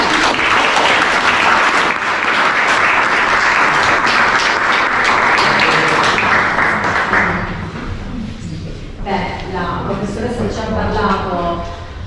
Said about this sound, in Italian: Intanto facciamo un applauso.